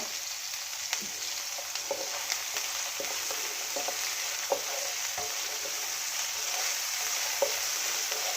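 Finely chopped onions with a little salt frying in a pan for a green peas curry: a steady bright sizzle with frequent small pops and occasional soft stirring scrapes, close up and free of voices.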